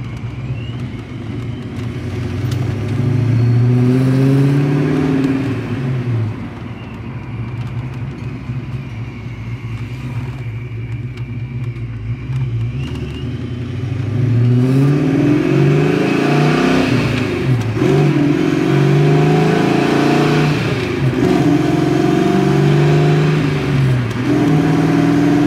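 Ram truck fitted with a hydraulic clutch setup, its engine droning and revving loudly and close while driving, with rising and falling pitch sweeps as it accelerates through gears over roughly twenty-five seconds, no talking.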